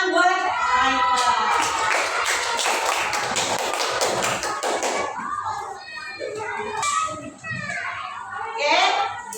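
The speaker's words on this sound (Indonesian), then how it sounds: "Tepuk tangan buat Aika." A fifth-grade class in an Indonesian primary school claps hands together in a burst of loud, rapid claps for a classmate, then children's chatter and voices take over.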